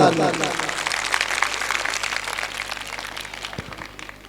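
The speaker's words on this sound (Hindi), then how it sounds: "एक बार जोरदार तालियां।" Audience applause at a felicitation ceremony, a steady wash of clapping from a crowd that fades gradually over a few seconds, with a voice speaking over it.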